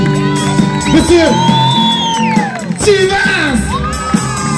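Live outdoor concert crowd in a park cheering, whooping and shouting for a guitarist, steady loud crowd noise with music underneath.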